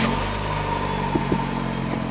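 A 2006 Dodge engine running just after starting with fresh oil, giving a steady low idle drone with a couple of faint knocks, close by and without talk.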